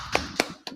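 Three sharp, separate hand claps at a class gathering, spaced unevenly and fairly close, with no talk over them.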